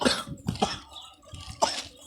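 Three separate coughs, fairly close and moderately loud, spaced out with short pauses between them and no talking.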